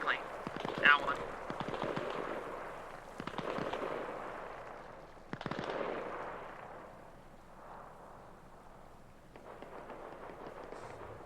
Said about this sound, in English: I'm hearing gunfire northwest of my position